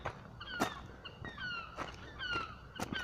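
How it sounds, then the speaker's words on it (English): Seagulls off a main trail give repeated nearby calls, with sharp squawks and falling cries overlapping at an irregular pace through the whole stretch. "Are these seagulls going to be mad at me?"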